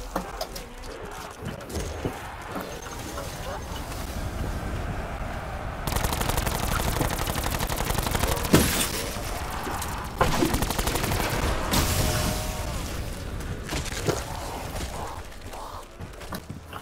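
Rapid automatic gunfire and launcher blasts in the zombies mode of Call of Duty Black Ops 4, dense continuous volleys with sharper bursts throughout, loud and with no talk.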